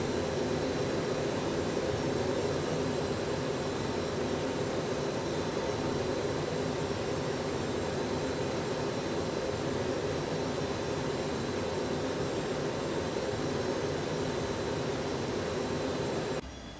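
Simulated ERJ regional jet engines drone from the cockpit in X-Plane, a steady loud broadband roar that holds unchanged throughout, no talk.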